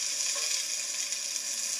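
Onions sizzle and fry steadily in a hot pan, a dense continuous hiss with light stirring scrapes underneath, close and even throughout, with no voices.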